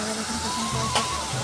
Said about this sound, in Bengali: তো এখানে মশলাটা ভালো করে কষিয়ে নিচ্ছিলাম।